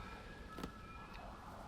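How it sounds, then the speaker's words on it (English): Fire engine siren wailing faintly in the distance, a thin sustained tone under ambient background, low in level with a short burst of noise partway through. "Hear the sirens? That's the That's fire a engine."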